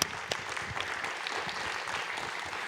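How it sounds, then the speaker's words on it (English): An audience at a panel discussion on workplace inclusion and disability rights in India claps in a fairly faint, steady patter of applause lasting a few seconds, with no voices over it. "big round of applause"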